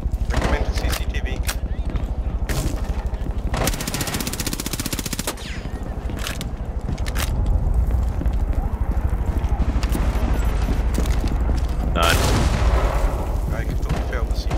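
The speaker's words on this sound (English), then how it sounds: "Someone's threw a grenade in." Rainbow Six Siege combat in a bomb match on the Border map: bursts of rapid gunfire and sharp explosive booms, including a grenade blast, crack loudly and close, with players talking over the fighting.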